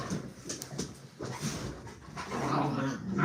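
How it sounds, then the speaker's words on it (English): Dogs panting and whimpering nearby, with soft breathy bursts and small whines coming and going over a few seconds. "My dogs are deciding to come in here and play."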